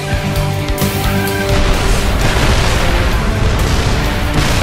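Siege tank shells bursting in a StarCraft match, tank artillery against tanks, a dense, loud, continuous rumble of booming explosions that swells slightly midway, with no voices.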